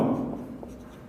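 A pen scratching across a board as a word is written, a short, close rubbing stroke that fades out quickly.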